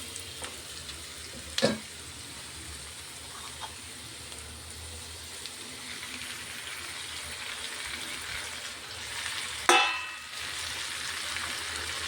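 Broad beans sizzle steadily in a pan as tomato pieces go in for a curry, a soft continuous fry broken by two sharp clinks of a utensil against the pan.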